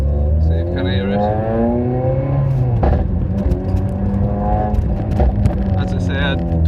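Revving engine and exhaust of a Honda Civic Type R with a pop and bang remap, rising and falling through several gear changes with sharp cracks between them, loud and close, with some talk over it.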